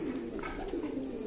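Pigeons softly cooing close by among fluttering birds, a low steady purring coo running under a faint hum of background noise with a few brief higher calls.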